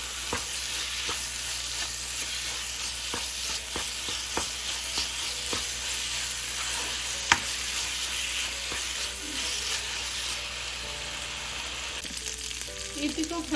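Ground chicken mince fries in a pan, crackling and sizzling steadily while being stirred, with scrapes and taps of the utensil now and then.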